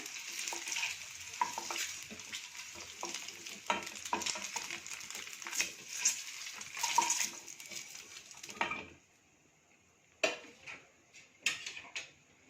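Chopped onions for chicken biryani sizzle steadily in a hot pan while a spoon stirs and scrapes; the frying stops abruptly, followed by a few scattered clanks.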